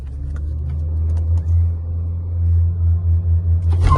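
Two Skoda Laura cars, one Stage 1 OEM+ and one Stage 2 APR tuned, idling and revving at the start of a drag race, a loud, close, deep engine rumble that pulses and rises in short throttle blips.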